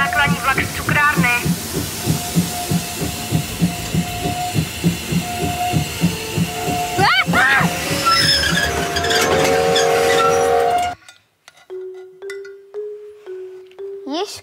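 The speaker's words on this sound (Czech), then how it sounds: "Na druhé kolej přijíždí nákladní vlak z cukrárny." A freight train arrives on the second track, rolling past with a steady rhythmic clatter of wheels over rail joints and a loud rumble, then squealing brakes and quieter tones as it slows.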